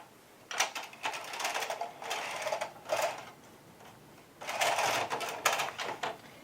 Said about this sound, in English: Then I'm going to thread the white yarn and knit across and back over only